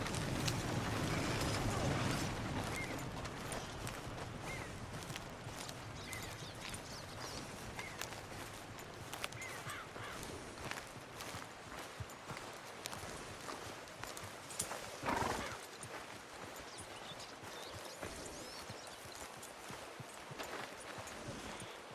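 A horse gallops at speed in Red Dead Redemption 2, with a steady, rapid drum of hooves, creaking tack and passing ambient rustle, loud and continuous, with a brief surge of heavier noise partway through.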